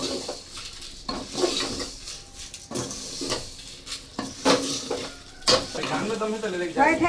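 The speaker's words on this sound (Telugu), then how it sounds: "ఇవి బాగా రోస్ట్ చేయాలి ఘీలో మంచి కలర్ రావాలి అంతవరకు మనం ఇది ఘీలోనే ఫ్రై చేసేద్దాము" Vermicelli sizzles as it fries in ghee, with repeated stirring scrapes and clinks of a utensil against the pan, close and moderately loud, with no talking.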